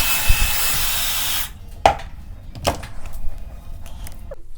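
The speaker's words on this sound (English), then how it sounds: "I'm just going to blow dry it real quick and get everything out" A handheld hair dryer blows a loud, steady rush of air while drying slightly damp hair, then cuts off after about a second and a half, leaving a few close knocks and handling sounds.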